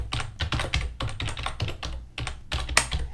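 Fingers tap quickly on a computer keyboard, making close, crisp bursts of keystrokes in uneven clusters with short pauses, and no voices.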